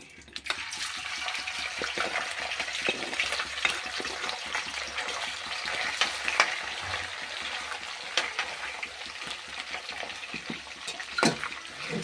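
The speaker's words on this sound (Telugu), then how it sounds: "Oil heat ఎక్కిపోయిందండి. ఆయిల్ ఇప్పుడు రొయ్యలు వేస్తున్నాను." Prawns deep frying in hot peanut oil give a steady, dense crackling hiss with scattered sharper pops, fairly close and continuous throughout, with no talking.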